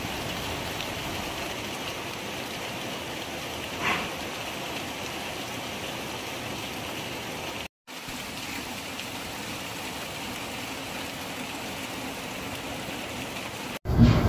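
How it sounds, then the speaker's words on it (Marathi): Heavy rain pours steadily over Jawhar in Palghar district, a dense, even hiss of falling water with constant intensity, briefly cut off at two points. "पालघर जिल्ह्यामध्ये पावसाने थैमान घातले आहे"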